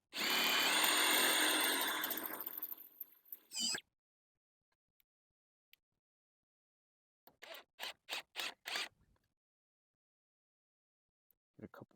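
A power drill drives Torx screws into wooden footing frames: a loud whirring run of about three seconds ends abruptly, and after a pause comes a burst of several short, quick drill pulses, then a faint short whir at the end.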